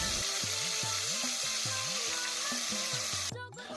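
Marinated meat and potatoes hit a hot pan of ghee, giving a loud, steady sizzle that runs throughout. A rhythmic series of repeated tonal sweeps sits underneath, and there is a brief scrape near the end.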